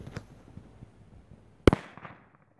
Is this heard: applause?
no